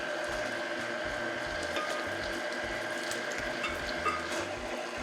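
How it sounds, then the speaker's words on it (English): Stand mixer whirring steadily on low speed, a faint mechanical grinding and rattling with a rhythmic low churn as eggs are added to the batter, with no one talking. "with the mixer running on low, we'll slowly add our eggs one at a time"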